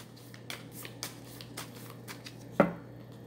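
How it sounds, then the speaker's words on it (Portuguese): A deck of tarot cards is shuffled by hand in soft, close, irregular taps and flutters over a steady low electrical hum, ending in one firmer slap of the cards. "Vamos embaralhar."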